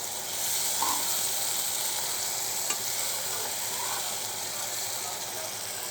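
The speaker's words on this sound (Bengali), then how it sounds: "আর একটু নেড়ে চেড়ে দেই।" Kechki fish masala being stirred in a pan, a steady close sizzle with soft scraping of the spoon running throughout, fairly even in level with no talk.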